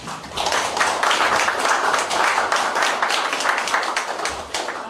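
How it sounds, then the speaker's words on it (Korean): Audience applause for a guest lecturer being welcomed at a Korean history lecture event, a dense, steady wash of many hands clapping throughout, fairly loud and continuous with no talk over it. "여러분 큰 박수 부탁드립니다"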